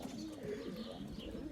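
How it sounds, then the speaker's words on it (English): Racing pigeon cooing in a loft, a run of soft, low throaty coos repeating steadily and close by, with no talking. "that pigeon there in front of me."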